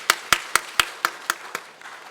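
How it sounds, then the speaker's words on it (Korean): A church congregation at a Sunday afternoon worship service claps in unison, about eight sharp, evenly spaced claps in a steady rhythm, fading slightly at the end. "우리 하나님께 영광의 박수 한번 올려드리겠습니다."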